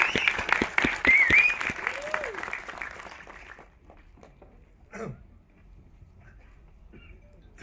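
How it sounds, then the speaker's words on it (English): Applause and cheering from a crowd, loud at first with whoops and a high whistle, then fading out to scattered claps. "big round of applause"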